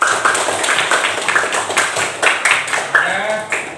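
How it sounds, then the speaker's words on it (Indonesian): Pupils in a primary school classroom clap in a quick, rhythmic burst of sharp, loud claps, continuing steadily with no pause. "Tepuk tangan untuk yang bisa menjawab"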